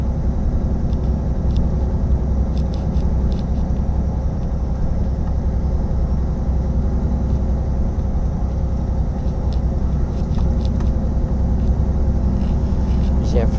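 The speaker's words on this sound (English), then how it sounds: "There's our friendly police car going past now." A police car drives past on a road where trucks are being let through a border, its engine a steady, close rumble of road noise that holds evenly throughout without any siren.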